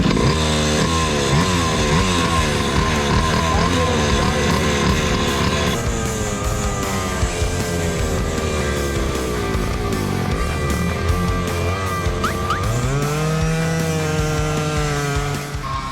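A go-kart engine fires up and revs hard, its loud buzzing whine rising and falling through repeated throttle blips and pitch sweeps, close and continuous throughout.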